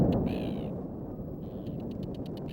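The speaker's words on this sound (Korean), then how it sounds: "멀리 남극에서 북극까지 날아온 북극 제비갈매기." Arctic terns, long-distance migrants, call over a nesting island in the Arctic in short harsh bursts above a steady wind-like rumble, with one longer grating cry near the start and quick clipped notes toward the end.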